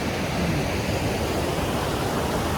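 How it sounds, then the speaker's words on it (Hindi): Rushing mountain water pours steadily beside a waterfall on a Himalayan trek to Madmaheshwar, a loud, dense broadband roar with no pauses and no voices. "बड़ी प्यारी प्यारी आवाज़ है यहाँ पानी की"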